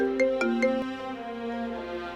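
A telephone rings inside a house with a bright electronic ringtone: a few quick chiming pulses, then a sustained melodic tone, loud and close, with no talking over it.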